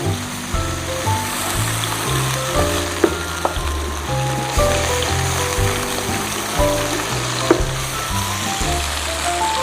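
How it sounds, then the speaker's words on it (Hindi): Ginger and garlic sizzle in hot oil while cooking Indian-style masala puff filling, a steady close frying crackle with rhythmic low thumps and a couple of sharp clinks of a spoon against the pan. "तो ये तेल के साथ बढ़िया से तड़क जाए इसलिए मैंने लिया हुआ है।"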